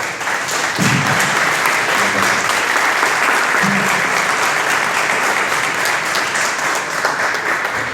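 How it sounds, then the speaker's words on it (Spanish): An audience applauds at the close of a lecture on the Spanish Black Legend, a loud, even, sustained round of clapping throughout, with a couple of brief low voice sounds near the start. "Pues un aplauso otra vez para..."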